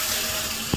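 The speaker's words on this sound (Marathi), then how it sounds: "बघा नळ चालू आहे" A running water tap fills a bucket with a steady close hiss of flowing water, ending in a brief louder splash.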